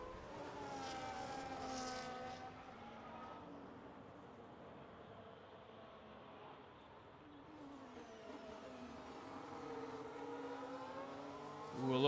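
Race cars in the F1 25 racing game, engines droning and shifting pitch at a hairpin as one car drifts while getting the power down, a steady mid-level roar with rising revs near the end.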